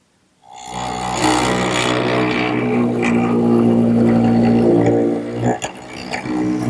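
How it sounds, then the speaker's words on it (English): A single-purpose mortising machine cuts a square mortise in wood for a turned post bed. Its loud, steady motor drone starts abruptly and holds, briefly dipping and surging near the end. "Okay, now to the mortising machine."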